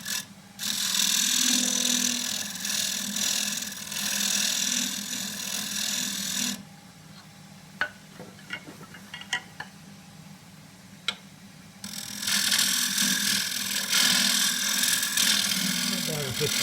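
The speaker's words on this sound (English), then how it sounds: "I'm going to do it with a skew chisel" A small skew chisel cuts oak on a wood lathe: a loud, continuous cutting rasp over the lathe's hum, a quieter middle stretch of hum with a few sharp ticks, then the cutting resumes loudly.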